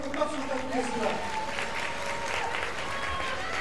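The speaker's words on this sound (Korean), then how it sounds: "한 번 더 큰 박수 부탁드리겠습니다" Loud, sustained applause fills a boxing venue after a women's pro bout won by TKO in the second round, with an announcer's voice carrying over the clapping crowd.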